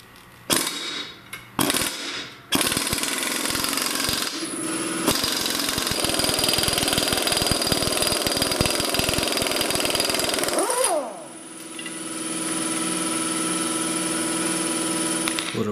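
A power tool rattles loudly as it spins a nut off an AAM 9.25 front differential center section. Short bursts come first, then a long continuous hammering run that winds down into a steady whir.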